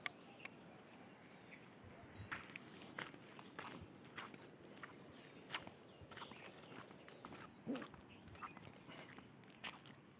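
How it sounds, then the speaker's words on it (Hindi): Footsteps of someone in wet sandals walking along a green, tree-lined village hill path, soft irregular steps that squish faintly, quiet and close against a low outdoor background with occasional birds. "मेरे पैरों की आवाज़ सुनाई दे रही होगी आपको"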